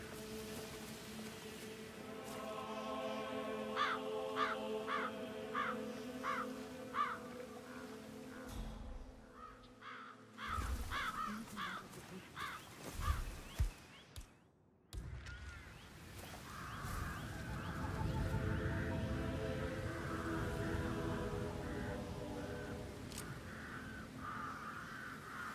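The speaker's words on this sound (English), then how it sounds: "Damn birds. If I could just get a clear hit on those nests." Crows caw repeatedly in the Dartmoor mission of the video game Hitman 3, a rhythmic series of harsh calls at moderate distance over ambient game sound, with a brief break and shuffling noises midway.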